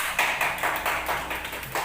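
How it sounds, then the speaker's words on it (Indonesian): A classroom of students claps together in a short burst of rhythmic hand claps, moderately loud and close, with pulses falling roughly evenly over about two seconds. "Oke, tepuk tangan"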